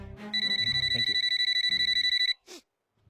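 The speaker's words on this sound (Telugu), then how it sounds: "నీ ఫోన్ రింగ్ అవుతుంది." A mobile phone rings with a rapid, evenly pulsed electronic beeping pattern that is bright and close, then stops abruptly before a short faint trailing sound.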